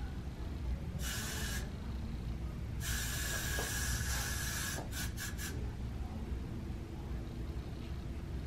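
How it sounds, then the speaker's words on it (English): Got2b glue hair spray misted onto hair while styling, heard as several loud hissing bursts of varying length, one long blast and a few short quick puffs, over steady background noise. "So you spray it."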